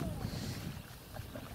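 Rowing boats on a summer lake drift under continuous wind buffeting, with soft water and hull sounds close to the microphone throughout.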